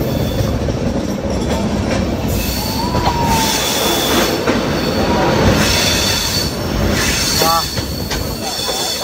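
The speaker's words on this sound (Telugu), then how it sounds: "ఒకసారి ట్రాక్స్ సౌండ్ ఏనండి ఎంత మంచిగా వస్తుందో." A train runs through a tunnel on a hillside line with loud, continuous rumbling and clattering wheels, high squeals on the rails and occasional brief screeches, with no clear speech.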